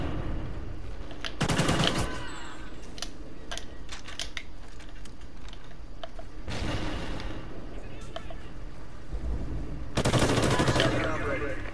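Three loud bursts of automatic gunfire in Call of Duty: Ghosts, spaced several seconds apart, with quieter clicks and faint background activity between the volleys.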